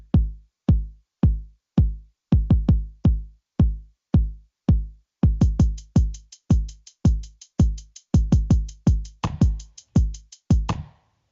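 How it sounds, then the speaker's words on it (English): Programmed drum pattern playing back from a sequencer, steady repeated kick-like hits that quicken into a denser pattern with bright clicks on top, loud and alone with no talking. "Your ones and your twos are a good starting off point to expand your drum pattern"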